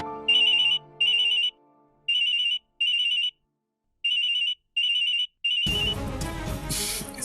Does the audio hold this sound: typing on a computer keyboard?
no